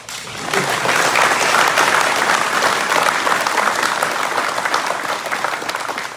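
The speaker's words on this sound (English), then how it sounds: "big round of applause" Sustained applause from a large audience at a workplace safety recognition event, a dense wash of clapping that swells and holds steady for several seconds before easing slightly.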